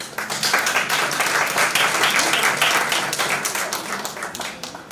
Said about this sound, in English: Might we have a round of applause?